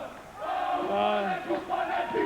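The Tall Blacks basketball team performs a victory haka on court after a World Cup qualifier against Australia, chanted voices shouting together in rough unison over arena crowd noise, loud and reverberant.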